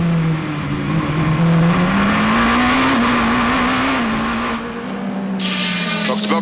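Cadillac and Porsche hypercars race at Sebring, a loud sustained engine roar with pitch rising and shifting as the cars accelerate past, and commentary faintly underneath.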